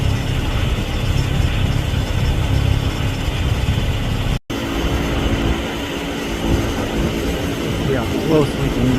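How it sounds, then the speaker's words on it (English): A plane passes low over a river along the Great Loop boat route, heard as a steady, loud engine roar throughout with a brief dropout midway and faint mechanical clicking near the end. "all of a sudden the plane will fly right over you and then land"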